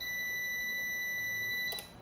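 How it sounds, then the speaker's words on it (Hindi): An iBall UPS gives a continuous high electronic beep that stops abruptly as the unit switches off, leaving a quieter hum. "आवाज़ करेगा, बीप की आवाज़ आएगी, और बंद होगा तब भी बीप की आवाज़ आएगी"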